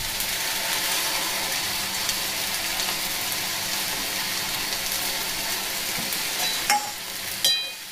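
Greens with poppy seed paste and a splash of water cook in a pan over high flame, sizzling loudly and steadily near at hand, with a couple of clinks near the end and no speech.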